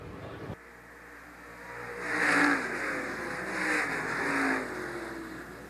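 Stock cars race past at Shelby County Speedway, engines swelling from a distance to a roaring pass, then a second wave of cars following close behind.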